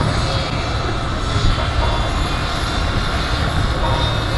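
Loud, steady droning roar of a B-25 bomber's piston engines passing nearby, a dense continuous rumble that never lets up.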